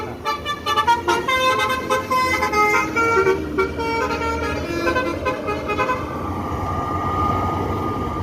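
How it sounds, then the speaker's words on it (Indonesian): Palala E03 bus pulling into Bare Solok terminal sounds a loud, sustained melodic horn with repeated toots, close and dominant over engine rumble. "Di sini ada bus Palala E03 yang memasuki terminal Bare Solok"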